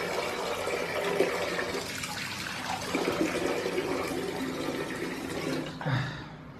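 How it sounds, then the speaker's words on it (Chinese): Tap water runs steadily while someone washes their face at a sink, a continuous close hiss and splash with small surges and a brief louder splash near the end. "然后咱们再洗一下脸"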